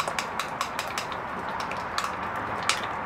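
Wasabi aioli being stirred into mayonnaise in a bowl, with a steady run of light clinks and scrapes from a utensil against the bowl, close and fairly quiet.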